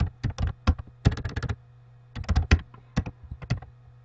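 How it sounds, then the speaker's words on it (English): Rapid bursts of close, crisp keystrokes on a computer keyboard, typed in short irregular runs with a pause in the middle, no voices. "I'm going to go ahead and type homework"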